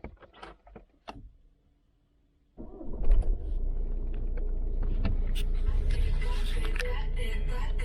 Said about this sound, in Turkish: Tekrar motoru çalıştırıyorum.